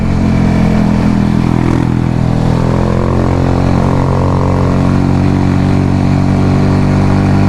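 Motorcycle ridden fast through curvy hill roads for technical cornering, its engine a loud, steady drone that holds throughout under constant wind rush, with no talking.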